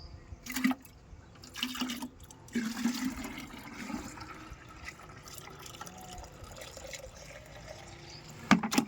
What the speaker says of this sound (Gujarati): હવે આમાં આપણે પાણી ભરી દઈશું